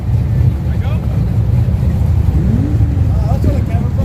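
A drag racing car's engine and exhaust drone at a dragstrip, a loud, close, continuous low rumble. Voices talk over it.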